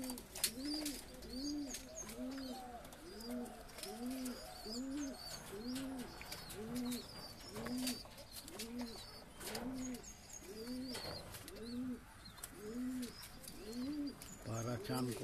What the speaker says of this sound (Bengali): পায়রা চান করবে বলে সব শুয়ে রয়েছে জলের পাড়ে